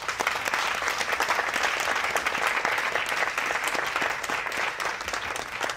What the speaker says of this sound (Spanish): Les pido un aplauso por favor para Junón.